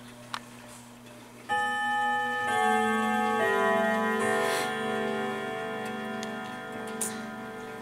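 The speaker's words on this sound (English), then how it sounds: "So I'll let you hear the chimes." A Sligh dark oak clock with brass works and a moon dial plays the Westminster chimes: faint ticking, then from about a second and a half a loud, ringing melody of sustained bell tones that overlap and decay, close and with no voices.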